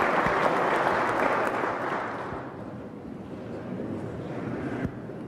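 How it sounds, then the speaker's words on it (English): Large crowd at a West Virginia State of the State address clapping loudly, a dense roar of many hands that gradually thins and softens, with a faint murmur of voices beneath. "Y'all got to settle down on the clapping."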